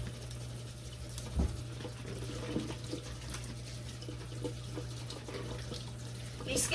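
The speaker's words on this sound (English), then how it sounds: "seeds are rinsing off quite nicely" Tap water runs steadily while garden pumpkin seeds are rinsed in a sink, a continuous close patter with a few louder splashes.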